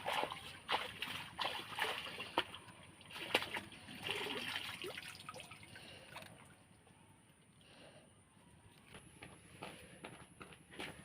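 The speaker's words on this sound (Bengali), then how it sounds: "চলো, ঢ্যাঁড়সটা আমি পুকুরের জলে ভালো করে ধুয়ে নিচ্ছি।" Freshly picked okra rinsed by hand in pond water, with close splashing, trickling and sloshing at an irregular pace, louder in the first half and softer later, with a faint high tone in the background.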